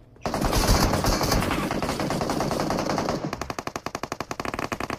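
Gunfire in a shooter video game: a sustained, loud automatic burst, then a rapid string of distinct close shots.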